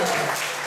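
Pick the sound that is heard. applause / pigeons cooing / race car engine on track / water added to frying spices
applause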